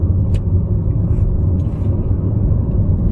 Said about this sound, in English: You hear a small amount of road noise from the tires